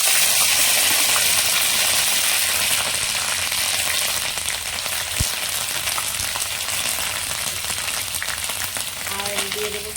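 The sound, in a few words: onion paste frying in hot oil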